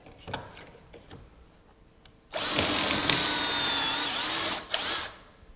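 A Kreg drill bores a pocket hole into a 1.5-inch-thick wooden mantel shelf. After a quieter lead-in, a loud, steady, high drill whine runs for about two and a half seconds, then stops abruptly.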